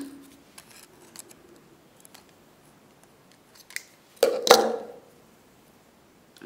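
Cutters snip through jewelry wire on a wire-wrapped cabochon pendant, a single sharp close click followed by faint handling rustle in a quiet room.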